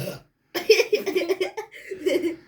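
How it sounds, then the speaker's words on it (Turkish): During a cola-drinking race, a drinker lets out a loud, close burp followed by a string of throaty, belching vocal sounds that mix with laughter. "Arkadaşlar 20 kere geğirdi bir kere geğirmedim."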